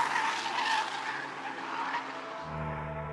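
Renault Megane RS hatchback racing up the Simola hill climb, tyres squealing loudly close by as the engine strains, then dropping to a lower engine drone as the car pulls away.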